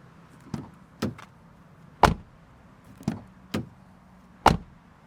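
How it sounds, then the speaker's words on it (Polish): A BYD Dolphin G DM-i car door shuts repeatedly, six solid thuds at irregular intervals, some heavier than others, heard close with quiet between them. "posłuchamy, czy drzwi zamykają się z należytą gracją"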